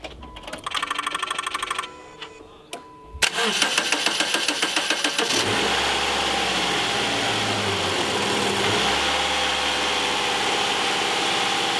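A car engine cranking and then starting after a battery replacement. A rapid rhythmic starter whir stutters briefly and then catches into a loud, steady idle, with no talking.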